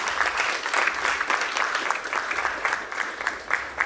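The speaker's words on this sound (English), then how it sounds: "So give yourselves a round of applause." A crowd at a dance battle final claps in thanks, dense applause swelling in waves with a few distinct sharp claps near the front.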